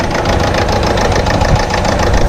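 A 4-cylinder TDCI diesel car engine idling with a noticeable vibration, heard up close as a loud, steady, rough rumble with a knocking texture and no voices.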